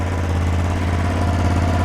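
A new 2025 Ducati Panigale V2S sits idling while still cold, a steady, close, throbbing engine drone with a low pulsing beat and no voices over it.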